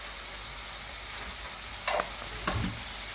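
Chicken frying in a karahi with cardamom for a dhaba-style koyla karahi, giving a faint continuous sizzle with two brief louder bursts of spattering or stirring late on.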